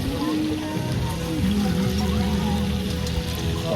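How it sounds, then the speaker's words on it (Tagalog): Hot rainwater poured into instant Starbucks coffee at a nature park campsite makes a steady, close trickling pour that runs without a break for several seconds, with faint background sounds. "Ilalagay na natin yung magic water. Hot water."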